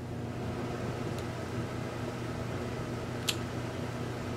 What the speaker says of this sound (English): And the air conditioning's on.